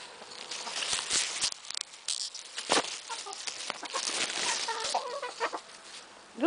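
Several chickens cluck and chatter close by in uneven bursts, with soft pattering and a few sharper squawks near the end.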